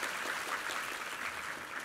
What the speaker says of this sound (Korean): 감사의 박수 부탁합니다.